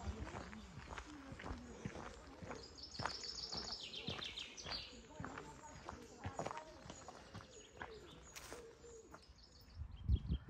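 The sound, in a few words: birdsong along the Camino Frances trail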